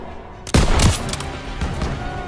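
Sustained gunfire laid down as cover fire in a stronghold battle, a loud burst of rapid shots erupting after a quiet moment and rattling on steadily, with dense overlapping reports.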